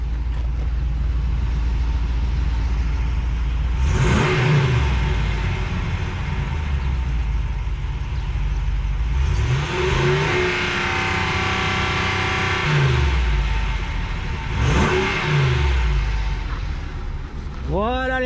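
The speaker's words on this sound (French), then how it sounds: "Allez, on va mettre quelques petits coups d'accélérateur. Je vais vous faire écouter" A RAM 2500 pickup truck engine is revved in a few separate bursts in the USA, each rising and falling over a steady idle rumble, loud and close.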